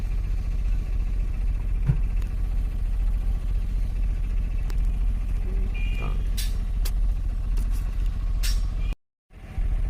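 Car engine idling low and steady while reversing in back gear on a slope, a continuous rumble throughout with a few faint clicks and short high beeps near the end, briefly cut by a gap of silence.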